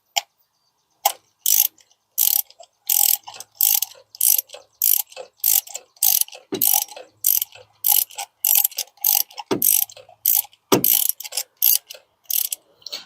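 Rapid bursts of ratchet clicking as a spark plug is tightened in a Buick Encore engine, about a dozen short runs of sharp ratcheting separated by brief pauses, close and fairly loud with no talk.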